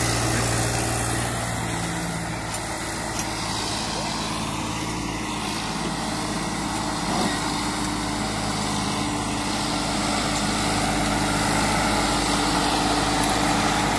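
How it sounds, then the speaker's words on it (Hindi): A Sonalika 60 RX tractor engine labours under heavy load with a steady, loud drone that holds throughout, with a person speaking over it. "दोस्तों जोर कितना लगा रहा है ट्रैक्टर।"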